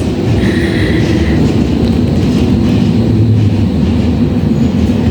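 Steady low rumble and rattling inside a moving, nearly empty train in Germany near Rostock, continuous and loud, with a faint squeal of wheels now and then; no talking.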